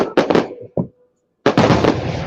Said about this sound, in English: the booms are just like drowning out all of the sound